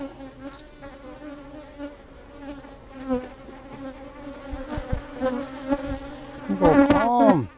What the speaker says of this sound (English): Love these bees.